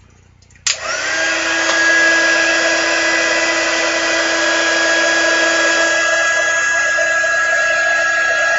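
An embossing heat tool switches on abruptly and blows a steady, loud whirring hum while heating glitter embossing on a card, running alone without talk for several seconds.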